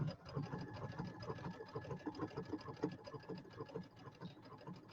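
A Brother embroidery sewing machine stitches steadily, its rapid, even mechanical chatter running continuously at close range without pause.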